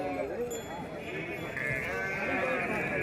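Nellore Judipi sheep bleat repeatedly at a crowded Gudur livestock market, several overlapping cries close by over a steady murmur of voices and market chatter.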